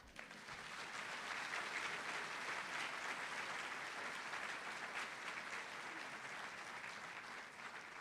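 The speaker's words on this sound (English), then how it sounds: "Thanks for the applause." Sustained audience applause at a medical school white coat ceremony, a steady dense wash of many hands clapping that holds evenly for the whole stretch, moderately distant, with no voices over it.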